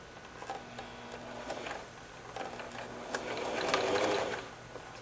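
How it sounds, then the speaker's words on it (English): A sewing machine stitches down the center of chenille fabric strips, a quiet close rhythmic whirring and ticking that speeds up and grows louder toward the end, heard alone. "make sure that you're on the edge of the circle and sew down the center of the chenille"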